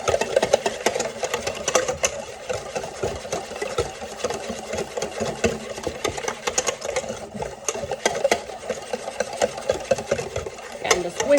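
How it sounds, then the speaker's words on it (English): Rapid, steady whisking of almond lemon cake batter in a bowl in a home kitchen, a busy rhythmic scraping and tapping that continues for the whole stretch at moderate loudness. "I'm just whisking all of that delicious goodness together"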